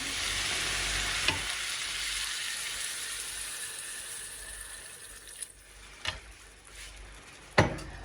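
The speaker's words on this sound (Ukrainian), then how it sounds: "Тепер заливаємо водичкою" Water is poured into a pan of frying minced pork for Bukovinian-style meat dumplings. A loud hiss and sizzle slowly fades, with a few sharp clinks and knocks toward the end.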